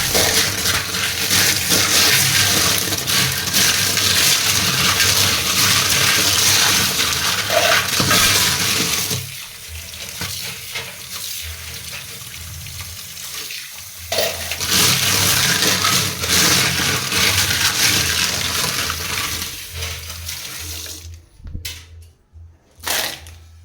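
Water pours steadily into a home fish tank for about nine seconds, breaks off, then resumes in a second loud rush before ending in a few sharp splashes and knocks.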